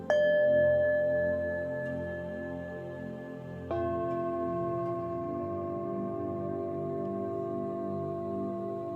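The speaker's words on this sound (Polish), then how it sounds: "jak dźwięk misy delikatnie rozprasza napięcie" A resonant singing bowl rings out, its sustained metallic tone slowly fading, then struck again midway and humming on steadily.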